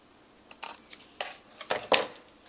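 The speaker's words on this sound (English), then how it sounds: "take my scissors and trim it off to give it a nice clean edge" Scissors snip along the edge of a folded paper card, trimming off the tabs: about seven short, crisp cuts in an irregular rhythm, close and fairly quiet, the last one the sharpest, with no talking.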